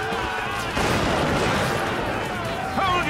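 Musket volleys crackle in an animated battle against the redcoats during the American Revolution, a dense, loud, continuous burst of gunfire with shouting voices mixed in.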